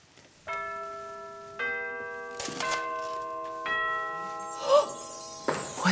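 A theatre's second bell rings before a ballet: a series of clear electronic chime tones, each struck and ringing out in turn, followed by rustling, clatter and a few soft knocks near the end.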